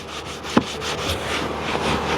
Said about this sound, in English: So we'll scrub the seat really well.